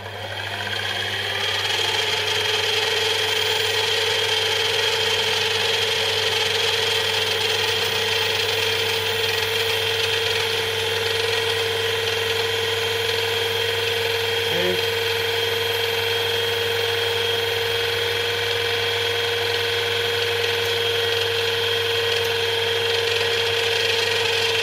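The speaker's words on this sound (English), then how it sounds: "I'll drill about 20 deep." A thick cutter on a homemade Gingery milling machine drills about 20 mm into the workpiece, giving a steady, continuous mechanical whine and grind with constant tonal hum throughout, loud and close with no talking.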